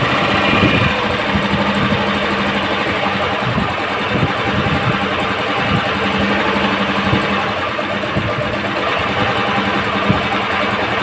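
A Honda CG125 motorcycle engine idles at lowered RPM after its throttle is turned down, giving a loud, steady, close-up mechanical thrum with fast even pulsing throughout.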